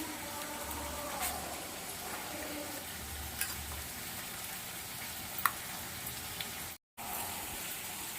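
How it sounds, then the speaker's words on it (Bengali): Spice masala fries in oil in a pan for Bengali doi katla, giving a soft, even sizzle at low level with a few faint clicks, broken by a brief gap near the end. "মশলাটা ভালো করে কষানো হয়ে গেছে, মশলা থেকে তেল ছেড়ে দিয়েছে"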